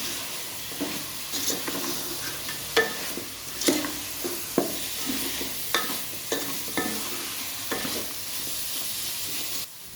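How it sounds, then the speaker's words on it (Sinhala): A spoon stirs chicken with turmeric and pepper powder in a hot pan, with intermittent scraping and clacking strokes over a continuous low sizzle, up close. "දැන් අපි ආයෙත් මේක හොඳට කලවම් කරගන්න ඕනේ"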